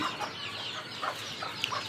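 Soft, scattered clucks from several desi chickens with chicks beside a rooftop garden, fairly quiet and irregular, with faint outdoor background noise.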